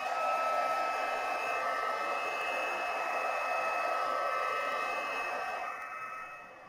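A hair dryer blowing over a watercolour beach painting, a steady close whirring drone that runs unbroken and then fades as it is switched off.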